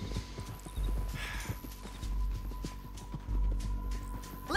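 Horse hooves clip-clop at a steady walking rhythm in Red Dead Redemption 2, with a low hum and occasional louder steps.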